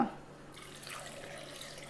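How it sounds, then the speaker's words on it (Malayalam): Water splashes as it is poured into a pressure cooker, a brief, quiet gurgling stream. "ഇനി വെള്ളം ഒഴിക്കുക"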